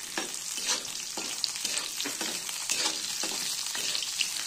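Cauliflower pieces fry in a pan for a Bengali vegetable dal, crackling in a bright continuous sizzle with repeated soft stirring scrapes, close and alone with no voices.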